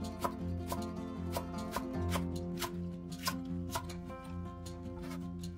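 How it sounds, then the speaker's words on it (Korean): A knife cuts green onion diagonally on a board in quick, regular taps, a dozen or more crisp chops in steady rhythm, close and clear with no talking. "대파는 어슷하게 썰어주세요."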